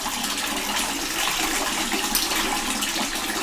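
Water splashing and dripping as hand-rinsed laundry is wrung out by hand during a rinse with no power, a steady close wet rush lasting the whole stretch.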